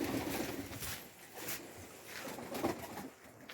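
Pigeons coo softly in low, murmuring calls nearby, faint against a rustling background with a few brief louder swells.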